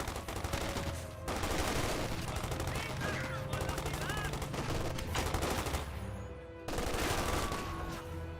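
Sustained, dense gunfire from an assault section in Company of Heroes 2 rattles almost continuously, with a brief lull before it resumes at full strength.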